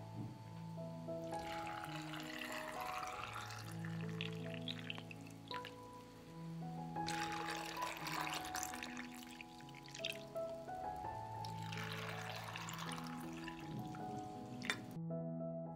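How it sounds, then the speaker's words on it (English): Cold water is poured into jars packed with grapes, a steady trickling pour with bubbling and splashing that pauses between jars while tonal background music plays underneath. "I pour cold water into the jars to cover the grapes."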